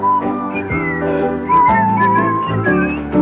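Someone whistles a bright, melodic tune up close, with sustained clear notes gliding between pitches, loud and alone without talking.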